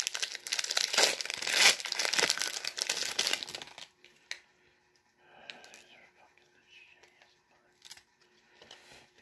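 Foil wrapper of a 1995 Fleer Ultra X-Men trading card pack crinkling and tearing open, loud and busy for about four seconds, then scattered softer rustles and card handling with quiet gaps.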